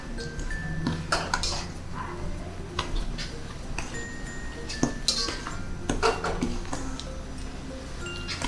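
Nastar cheese cookie dough stirred by hand in a bowl without a mixer, with irregular clinks and scrapes of utensil against the bowl throughout, close and moderately loud, and no talking.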